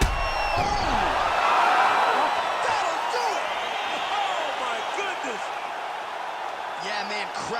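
A virtual arena crowd in a UFC 5 fight roars and cheers loudly and steadily at the finish, with a commentator talking over it.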